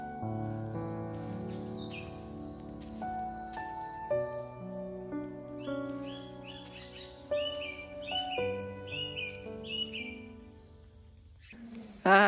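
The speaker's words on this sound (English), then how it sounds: "I was just listening to the birds." Birds sing in varied, overlapping chirps and trills over a soft, steady background, with one louder burst of song near the end.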